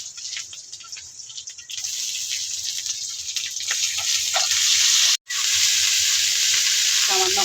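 Ground ginger and cumin paste goes into oil with fried slit green chillies, making a bright hissing sizzle that swells louder midway, with a brief silent cut and some stirring and watery sounds, no speech.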